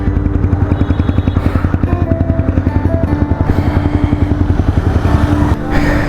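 Motorcycle with an aftermarket Akrapovic exhaust idling close by, its loud, even pulsing beat holding steady with a brief dip in revs near the end.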